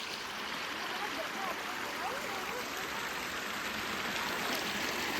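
Floodwater rushes past in a strong current, a continuous broadband roar of flowing water with no break, fairly distant and even in level throughout.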